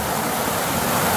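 Brook water flows steadily around a person standing in it wearing Wellington boots, making a dense, continuous rushing wash that stays close and even throughout, with no talk.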